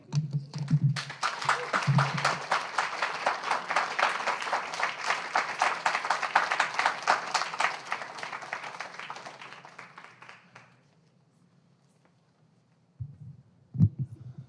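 An audience at a poetry book launch on mass incarceration applauds in steady, dense clapping for about ten seconds before fading into near silence, with brief low thumps at the start and end.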